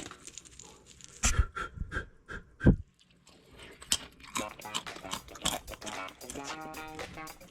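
Crisp, crunchy fried food being bitten and chewed, giving several sharp, close crunches in quick bursts with short pauses and some breathing between them.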